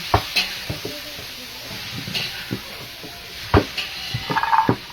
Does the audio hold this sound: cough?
no